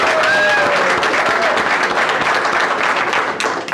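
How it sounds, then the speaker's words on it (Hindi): Audience at a business meeting breaking into loud, close applause, a dense sustained burst of many hands clapping that tapers slightly toward the end, with faint voices mixed in. "ताली बजा दीजिए सबके लिए"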